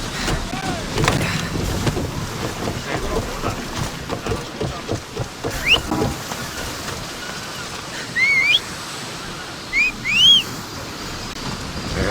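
A sailing ship glides over open sea in Assassin's Creed Odyssey, with a steady wash of water and wind running throughout, punctuated by soft creaks and a few short whistle-like cries near the end.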